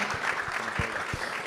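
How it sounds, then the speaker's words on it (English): Brief burst of audience applause at an energy investment summit panel, a moderate crowd clapping steadily at mid distance with no voices over it. "I think that deserves a round of applause"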